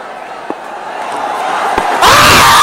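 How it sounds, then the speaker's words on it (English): A loud appeal bursts out at about two seconds at an evening international cricket match between Bangladesh and Sri Lanka, a roaring shout from players and a big crowd rising over steady stadium murmur. "A big shout for LBW, and the finger goes up."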